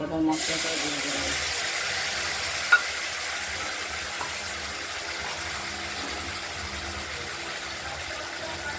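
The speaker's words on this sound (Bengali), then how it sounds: "এর মধ্যে হলুদ দিয়ে আলুগুলো লাল করে ভাজা হয়ে গেছে" Potatoes with turmeric fry in a pan in a home kitchen, giving a loud, even sizzle that starts abruptly and runs continuously, with a couple of brief utensil knocks and no speech.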